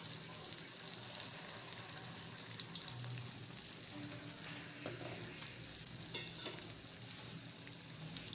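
Spoonfuls of dahi bara batter hit hot oil and fry with a steady crackling sizzle, the sound continuous and fairly quiet, with no talking over it.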